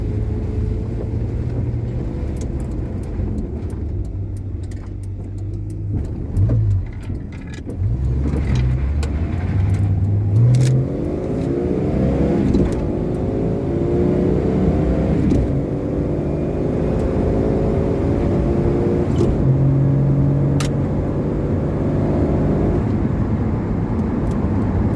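A car being driven after being fixed for extra power, its engine droning steadily with audible gear changes and rising revs, loud and close from inside, with no talking.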